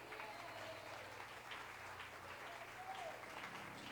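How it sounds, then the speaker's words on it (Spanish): Church congregation at Ebenezer Medellín applauding during a sermon, a faint, steady wash of distant clapping held at an even level throughout with a soft low hum beneath. "Démosle un aplauso al Rey."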